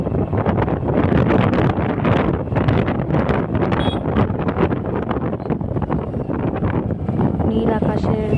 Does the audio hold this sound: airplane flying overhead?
no